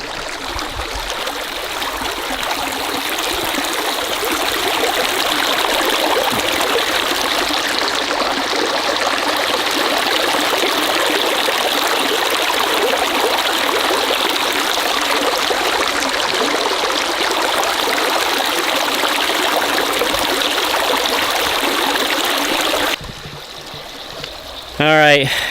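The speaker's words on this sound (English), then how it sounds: "Great river noise." Steady, full rushing of river water flowing over rocks in Dinosaur Valley, Glen Rose, Texas, continuous and fairly close, ending with a brief change in the sound near the end.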